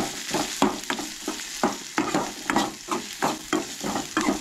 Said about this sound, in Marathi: हांगसर आलें ऍड करूंक जाय आनी हलकेशें म्हणटा तशें भाजून घेवंक जाय